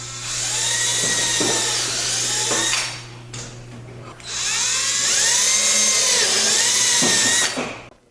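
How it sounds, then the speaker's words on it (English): A power drill whines loudly in two long bursts, pitch sagging as it bites through metal drilling rivet holes in a car panel, with a short pause between them. "Drill out these rivet holes."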